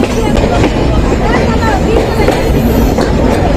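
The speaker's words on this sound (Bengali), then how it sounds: "Kapotaksha express train" The Kapotakkho Express passenger train, crowded during Eid, rumbles along loudly with constant heavy noise, and a crowd of voices murmurs faintly under the din.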